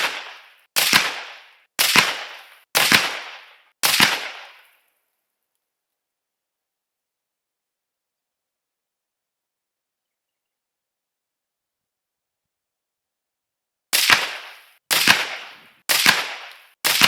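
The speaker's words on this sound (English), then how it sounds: "I want to shoot 2 more groups here and see if it just is the rifle settling in" Sako 90 Varmint rifle in .22-250 firing sharp, loud outdoor shots at a range, four evenly spaced cracks, a long silence, then another four-shot group at the same steady pace.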